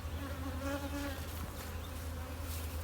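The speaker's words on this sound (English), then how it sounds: "There's plenty of bees." Honeybees in an overcrowded observation hive give off a dense, steady buzz, close and continuous throughout, with no talking.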